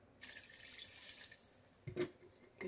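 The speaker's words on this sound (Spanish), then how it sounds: "Le voy a poner un poquito más de agua" Tap water runs in a steady hiss as more water is added to a pot of fish soup with coconut milk, with a brief splashy gush near the end and no talking.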